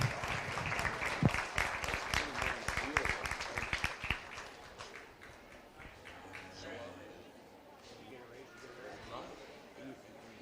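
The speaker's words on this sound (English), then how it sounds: "Let's give him a big round of applause." Applause at a county beef show honours the showmanship champion and reserve champion, a burst of clapping from the crowd that thins out after a few seconds, leaving a quieter murmur of the arena behind.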